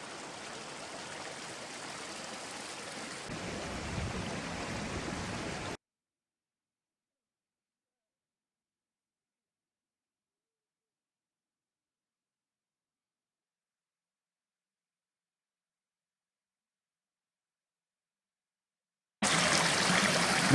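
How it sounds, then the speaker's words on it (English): A waterfall and stream near Llyn Ogwen in Snowdonia rush and trickle continuously. The flow is heard for several seconds, then the sound cuts to silence and returns briefly at the end. "it is an absolutely lovely waterfall going all the way up"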